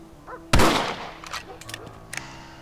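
A single sharp rifle shot in the video game Red Dead Redemption, close and loud with a ringing decay, followed by fainter clicks and small game sounds.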